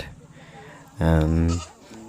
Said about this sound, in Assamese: এয়া দেখিছেন ছাগলী লৈ গৈছে গোসাঁনীক উৎসৰ্গা কৰিবৰ বাবে